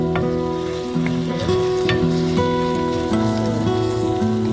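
Curry leaves and bay leaves sizzle and crackle steadily in hot oil in a home kitchen pan while a South Indian chicken curry cooks, with no talk over the frying.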